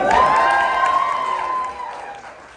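An audience at a live Q&A at Madam Zuzu's in Highland Park, Illinois, cheers loudly. A sustained high whooping voice rides over crowd noise and gradually fades.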